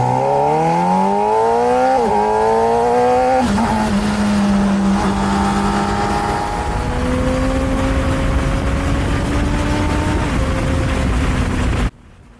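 A 2024 Honda CBR600RR inline-four motorcycle rides down the road, its engine revving high and shifting up through the gears, then settling into a steady drone, clear and close throughout.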